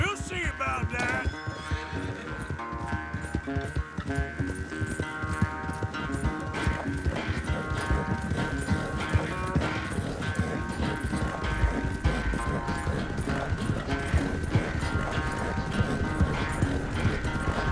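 A horse galloping with steady clip-clop hoofbeats and occasional neighs in the Red Dead Redemption 2 video game, running continuously over a dense layer of game music and ambience.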